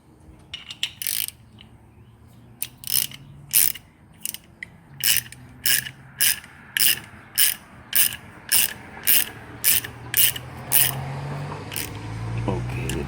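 A hand ratchet cuts a thread on a part for a Town and Country cooling fan relay. It gives around fourteen sharp, close clicking bursts in a steady rhythm over a low background hum.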